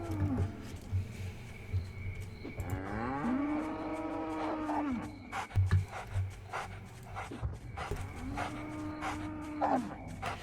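Cattle in a video game give several long, low moos, two drawn-out calls separated by a pause, fairly close and clear over faint background noise and thumps.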